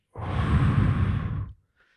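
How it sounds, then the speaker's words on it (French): A single deep breath exhaled during a guided breathing moment, one long breathy rush lasting over a second, close and fairly loud, then cut off into silence. "on va faire une respiration"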